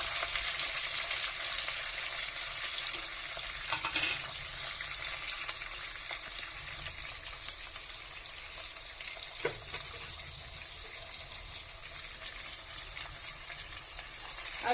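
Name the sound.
sliced onions frying in a pan with cloves and bay leaves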